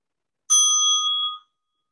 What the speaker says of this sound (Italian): E concludiamo ascoltando il suono della campana.